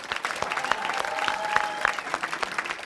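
A studio audience at a televised singing competition applauds the drummer, giving steady, dense clapping that carries on with a few louder claps standing out, close and full, with a faint voice underneath.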